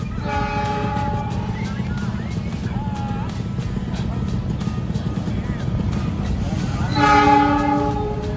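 The Papandayan passenger train arrives at Garut, Indonesia, its horn sounding in long blasts at the start and again near the end over a steady rumble of rolling rail cars, with background voices.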